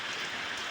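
Rain drumming steadily on a metal sheet roof in a village during rainy weather, a dense continuous hiss of drops with no pauses and no talk.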